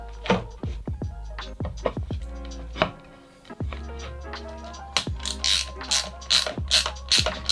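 Ratcheting a clamp fixture tight around EVE 280Ah LiFePO4 battery cells, giving crisp close clicks in quick rhythmic bursts with a short pause midway.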